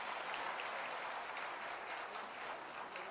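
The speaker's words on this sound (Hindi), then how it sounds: "और अब एक बार उत्साह वाली तालियां आप सबकी तरफ से होनी चाहिए।" A crowd at a government housing allotment ceremony held with the Rajasthan Chief Minister applauds on request. The clapping is dense and continuous, stays fairly faint and even, and has no talking over it.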